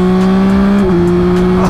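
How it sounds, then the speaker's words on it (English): Yamaha Tracer 9 GT motorcycle engine running loud and steady, a sustained tonal drone that drops slightly in pitch partway through as the rider shifts, with no talking. "Today, we get to ride the Tracer 9 GT."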